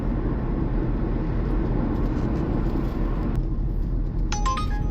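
A car driving along a quiet Sunday road during a food delivery shift in New Zealand, heard as a steady, loud interior road and engine rumble throughout, with a few faint electronic beeps near the end.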